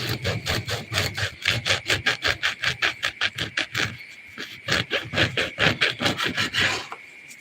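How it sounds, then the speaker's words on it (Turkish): A knife saws through a loaf of homemade bread in quick, rhythmic back-and-forth strokes, a close, rasping scrape repeated steadily, with a brief slower moment midway. "biraz daha ince dilimle çıkardık"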